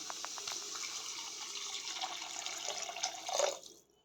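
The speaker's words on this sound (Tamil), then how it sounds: "இப்போ நம்ம இதில் நானூறு மில்லி தண்ணி சேர்த்துக்கலாம்" Water pours in a steady, continuous stream into a cooking pot for several seconds, about 400 millilitres, then tapers off and stops.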